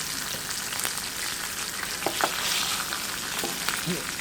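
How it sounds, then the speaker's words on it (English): Fish fries in a pan with a continuous dense sizzle, close and steady, broken by a few faint clicks of stirring. "Let our fish keep cooking, guys"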